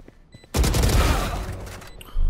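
Gunfire in the first-person shooter VALORANT: a rapid burst of loud, close gunshots cracking together, then a brief pause before another shot begins.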